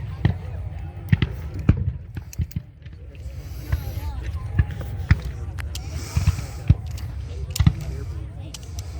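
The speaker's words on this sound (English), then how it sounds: "So there go the cannons aimed at the cemetery position." Cannons fire at a Civil War reenactment of the Battle of Cedar Creek, their sharp, separate booms spaced every second or two over a steady low rumble, with voices throughout.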